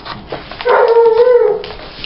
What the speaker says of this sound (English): My dogs are barking because my daughter just came in and they're excited.